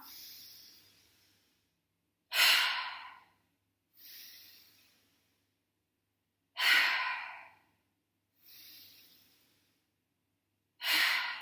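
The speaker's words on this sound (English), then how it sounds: "as you exhale, release the arms down to the side and let the air go" Deep yoga breathing during an energizing session: slow breaths in and out alternate in a steady rhythm, with the louder exhales coming roughly every four seconds. The breathing is close and clear, with no talking.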